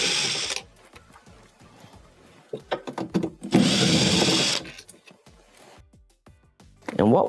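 A power screwdriver backs out green Phillips screws from a washing machine's shift actuator, with short bursts of whirring drive between pauses, clicks and handling noise, and a voice speaking at the end.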